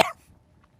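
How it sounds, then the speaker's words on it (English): One loud, sharp cough from an adult bursts out at the very start, followed by near silence and a faint click at the end. "I start coughing really loud."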